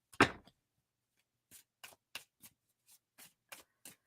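Tarot cards are shuffled sloppily in a live reading, giving one sharp riffle followed by a string of soft, scattered flicks and taps, close and fairly quiet, with no talking.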